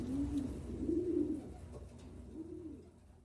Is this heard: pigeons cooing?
yes